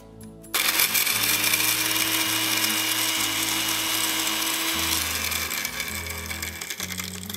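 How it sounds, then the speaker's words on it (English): A blender whirs loudly after a brief pause, its motor roaring steadily with shifting pitch as the contents churn; no talking. "Blender lid on, button ready."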